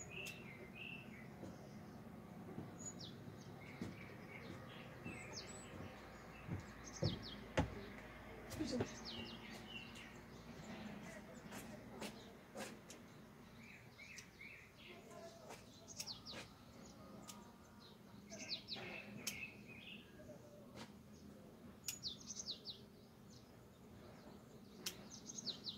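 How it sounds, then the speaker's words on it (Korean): Small birds chirp and tweet in a garden with pruned pine trees, repeated short calls scattered near and far over a quiet outdoor background, with some soft talk and occasional knocks. "새소리도 들리고"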